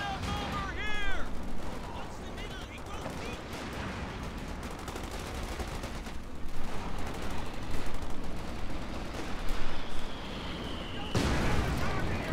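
Rapid .50 cal machine gun bursts in Company of Heroes 2, loud repeated gunfire with other battle noise under a commentator's voice.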